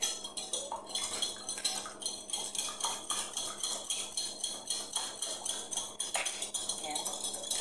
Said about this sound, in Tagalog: Ito ang ating wire whisk.